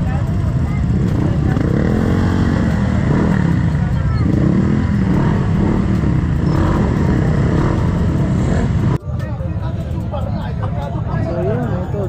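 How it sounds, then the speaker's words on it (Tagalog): Many motorcycle engines hum and rev nearby amid a crowd's babble of voices at a large motorcycle club gathering in San Pablo, with a sudden jolt of louder noise near the end. "Puro motor, syempre."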